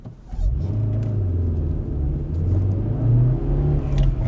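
A Kia accelerating hard, engine revving, with overheated brakes causing vibration and grinding: a close, loud low engine drone and rumble that rises and holds steady throughout.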